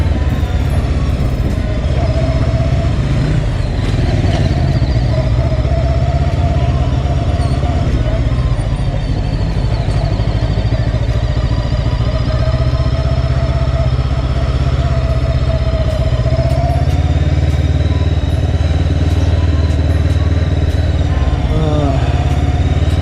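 A Gaokin Storr 500 motorcycle circles slowly in first gear for a tight turning test, its engine a loud, steady drone close by with slight rises and falls in pitch throughout.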